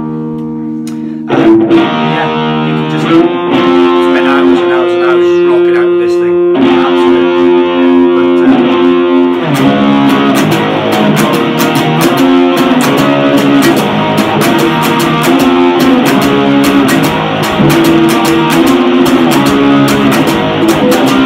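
Electric guitar run through a Marshall JH-1 distortion pedal on its distortion setting into a Blackstar Fly amp on the clean channel, starting with a few ringing chords and then settling into steady, loud, crunchy distorted riffing with no talk.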